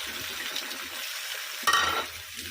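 Two eggs fry with rice in a pan, giving a steady sizzle with a quick scrape of stirring midway, close and fairly loud.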